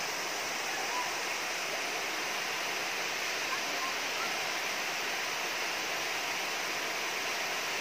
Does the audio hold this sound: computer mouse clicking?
no